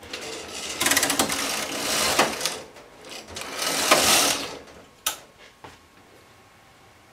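A domestic knitting machine knits rows, the carriage sliding across the needle bed in several swishing passes with mechanical clicks and a sharp knock between strokes, close and fairly loud.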